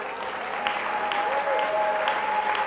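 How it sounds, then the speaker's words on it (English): Church congregation clapping hands during worship, a continuous dense patter of claps with a sustained keyboard tone underneath and faint voices. "Come on, clap your hands, all you people."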